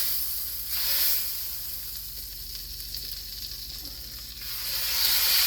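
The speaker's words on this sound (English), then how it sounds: "add it to the pan. And we're going to brown it" A beef pot roast sears and browns in a hot pan with a loud, steady sizzle. The frying swells briefly near the start and again at the end.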